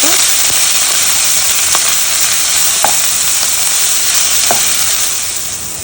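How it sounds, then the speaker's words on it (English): Onions and peppers sautéing in a pan for seafood stuffed shells, a loud, continuous sizzling hiss with a few sharp crackles and pops spread through, fading slightly at the end. "Saute the onions and pepper."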